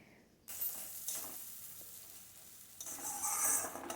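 A spoon stirs a yogurt and onion mixture in a pan over low flame for Bengali doi koi, producing a steady soft scraping with a light sizzle that swells louder near the end, no voices.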